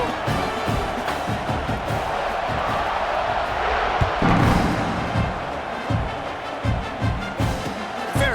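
A college football stadium crowd at an SMU at Oklahoma game keeps up a loud, sustained roar that swells into cheers, with thumps and whoops rising above the din.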